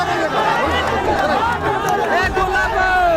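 A crowd of protesting students gathers in Hazaribagh, Jharkhand, a steady dense hubbub of many overlapping voices and chatter filling the scene throughout, close and continuous.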